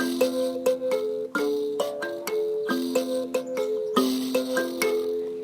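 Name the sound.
mbira being played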